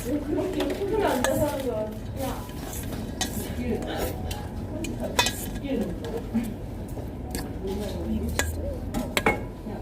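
Bread soaks in beaten egg in a bowl while a utensil stirs and clinks against the dish in a home kitchen, with a soft background hiss and some talking.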